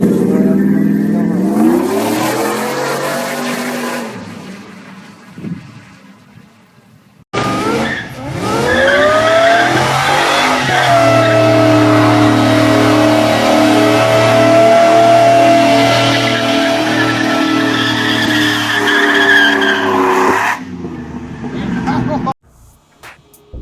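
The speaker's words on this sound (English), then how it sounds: "I have a video of Diego race right here" Race car engine roaring, revving and skidding with squealing tires, played back loudly from a recorded race, with sustained high engine whine broken by brief pauses.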